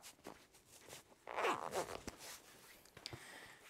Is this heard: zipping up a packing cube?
yes